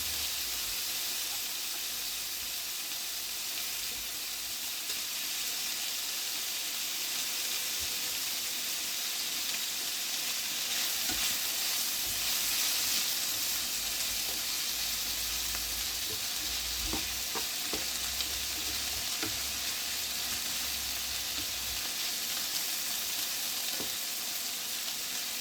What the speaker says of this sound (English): So we're going to brown the onions or soften them a bit more.